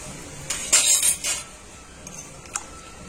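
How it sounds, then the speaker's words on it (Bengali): A spoon stirring a pot of home-style chicken and potato curry just after garam masala is added: a brief cluster of metallic scrapes and clinks, then a few sparse taps against the pot, with no voices. "আর গরম মশলা গুঁড়ো দিয়ে একটু নাড়াচাড়া করে আমি নামিয়ে নেব"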